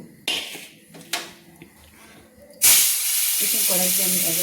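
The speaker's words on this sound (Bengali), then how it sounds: "মাছ ভাজার জন্য আমি চারটে মাছ রেখেছি লবণ মাখিয়ে নিয়েছি এবার আমি ভেজে নেব" Four salted pieces of silver carp drop into hot oil in a wok already holding turmeric, setting off a sudden loud, steady sizzling hiss that carries to the end, after a stretch of quieter kitchen sounds and brief knocks.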